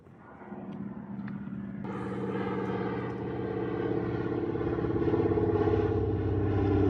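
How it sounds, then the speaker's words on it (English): Propeller airplane landing near a remote Alaska fishing lodge, its engine drone starting faintly and swelling abruptly into a loud, steady roar that builds further toward the end. "After watching this plane land"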